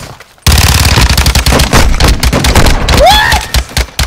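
Rapid automatic gunfire from Call of Duty: Modern Warfare II, loud and dense bursts of shots with a brief whizzing sound near the end, following a short quiet gap at the start.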